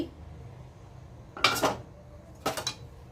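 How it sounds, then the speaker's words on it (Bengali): Two sharp metallic clanks of a lid knocking against a wok of sambar dal, spaced about a second apart, over a low quiet kitchen hum. "কিছুক্ষণ পর কড়াইয়ে ঢাকনা খুলছি।"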